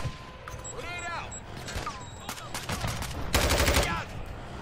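Call of Duty MW2 gunfire sounds in short bursts and rapid automatic volleys, with one loud burst near the end. Other game sounds and effects mix in around the shots.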